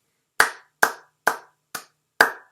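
Five slow, deliberate hand claps ring out one at a time, each sharp and close with a short decay, evenly spaced apart with a slightly softer fourth clap.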